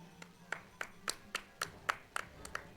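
A handful of hands clapping in a steady, spaced rhythm, about ten sharp claps, fairly close and moderately loud with no talking.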